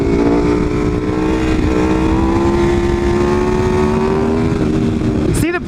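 A Ducati 959 motorcycle engine holds a loud, sustained high rev for a burnout at a powersports bike night, droning steadily with slight pitch rises close by.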